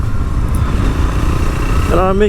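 A Triumph Scrambler 400 X motorcycle being ridden, its engine a loud, steady low rumble close by with a brief rising rev near the end.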